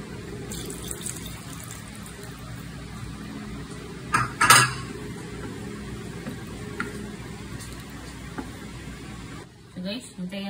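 Water pours from a kitchen tap into a cooking pot while spaghetti is being made, a continuous running stream with a clatter of pots and utensils partway through and a brief knock near the end.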